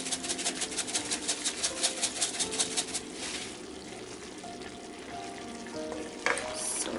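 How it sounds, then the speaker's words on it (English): Pork and chicken adobo with soy sauce, onion powder and chili pepper flakes frying in a pan while stirred, a steady close sizzle with a rhythmic scraping of the spoon at first, then continuous bubbling. "So just stir."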